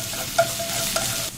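Minced garlic and shallots sizzle steadily in hot oil, with a couple of brief utensil scrapes against the pan.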